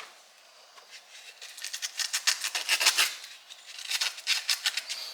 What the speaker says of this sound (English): A little bit of sandpaper.